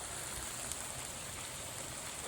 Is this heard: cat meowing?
no